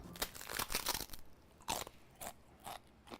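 Crisp, crunchy tostada shell being broken and bitten, a series of sharp close crunches and crackles in irregular bursts with brief quiet gaps.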